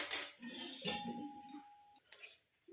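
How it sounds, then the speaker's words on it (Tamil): An iron kadai is set on a stove with a single close metallic clink that rings briefly with a thin sustained tone before fading, followed by a faint light tap. "இப்போ நம்ம அடுப்பில் வச்சாச்சு இரும்பு கடாயை."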